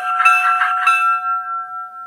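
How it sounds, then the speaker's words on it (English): Locomotive bell from a Soundtraxx Tsunami-2 sound decoder in an Athearn Genesis Union Pacific EMD SD70 model, a few close metallic clangs that ring on and fade with a steady tone. "we got a bell."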